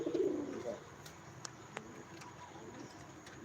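A pigeon gives a soft, short cooing call up close on a pigeon farm, followed by a few faint clicks and quiet ambient hiss, with no voices.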